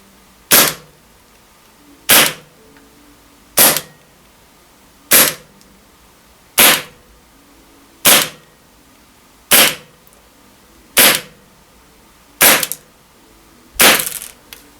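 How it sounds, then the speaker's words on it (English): Gas blowback KWA KZ61 airsoft SMG firing 0.3 g BBs outdoors: about ten sharp, loud pops in a steady rhythm roughly a second and a half apart, the last one slightly doubled. "Semi-auto shots, and then I did a couple of bursts of full auto"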